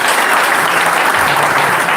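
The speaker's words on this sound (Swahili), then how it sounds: "Tũhũrĩre Ngai ũcio makofi mega." Sustained applause from a church congregation at a Kikuyu Akorino gospel memorial service, dense and steady clapping throughout, close and loud.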